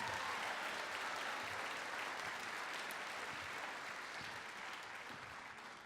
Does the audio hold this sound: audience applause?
yes